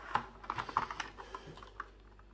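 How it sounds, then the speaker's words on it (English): Cellophane plastic wrapping being handled while unpacking a Hornby Clan 6MT model locomotive: faint, close crinkling and crackling in small irregular bursts over a low background hum. "Cellophane plastic."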